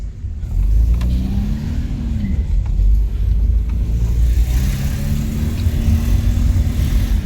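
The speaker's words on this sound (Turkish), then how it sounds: "Ulan makine felaket güzel tırmanıyor ya" A Mercedes 190E engine pulls hard while climbing, a loud close rumbling drone that rises in pitch as it accelerates, then steps down after a gear change before building again.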